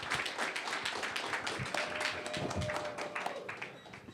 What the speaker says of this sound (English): Big round of applause for Jacob